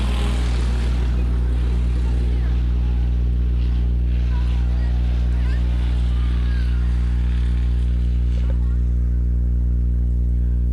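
Hobby stock and sportsman stock cars racing at Rock County Speedway, engines roaring loudly and continuously under an announcer calling the finish of the feature, with distant crowd noise.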